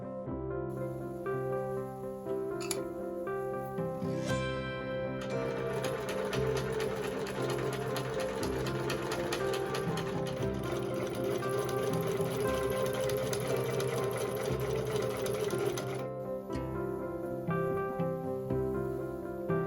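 Sewing machine stitching two panels of vintage kimono fabric together for wide-leg pants, a steady, close mechanical whir running continuously for most of the stretch, with brief pauses and lighter motor sounds at the start and end.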